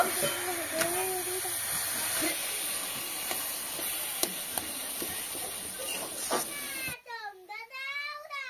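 Coconut, sugar and jaggery cook in a wok with a steady loud hiss and sizzle, joined by a few faint clinks and brief voices before a sharp cut to different sound.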